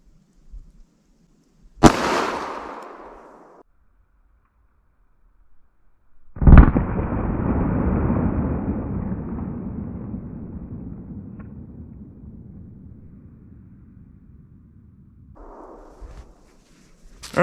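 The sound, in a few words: gunshot of .44 Special Buffalo Bore Barnes TAC-XP round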